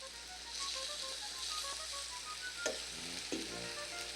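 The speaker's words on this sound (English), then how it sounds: "It's just a frying away" Sausage sizzles and crackles steadily in a frying pan, close and even, with a couple of soft knocks near the end.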